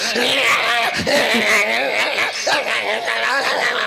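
A man imitating a dog's barking and whining on a stage, a continuous loud vocal performance of rough, yelping barks over a noisy background.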